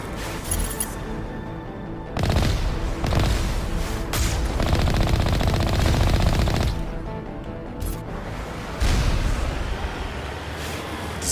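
Rapid automatic gunfire and turret shots rattle in dense bursts during a Mass Effect firefight, with loud stretches of fire separated by brief lulls and ending in a sharp blast.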